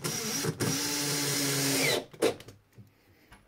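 Power drill driving a 30mm screw into a wooden faceplate, a close whirring drive for about two seconds that stops sharply, followed by a few light clicks and handling noises.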